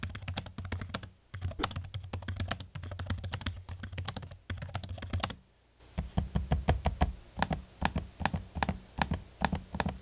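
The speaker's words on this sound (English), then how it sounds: "I'm gonna give you a quick sample of the keyboard and trackpad so you can hear them for yourself." Keys on an Asus ROG Zephyrus G15 laptop clatter in quick, soft, even typing up close, then after a brief pause come a series of sharper, evenly spaced trackpad clicks.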